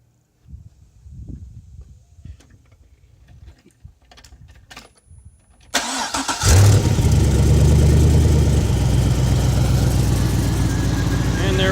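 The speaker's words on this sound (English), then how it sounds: "The engine's running. Pretty quiet actually." A 2006 Pontiac GTO LS2 V8 mounted on an engine stand cranks briefly after some quiet handling noises, then fires and settles into a loud, steady, smooth idle that fills the second half.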